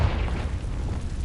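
The Confringo fire spell from Hogwarts Legacy goes off as a deep, sustained rumbling boom, loud and dense with no distinct attack, and no voice over it.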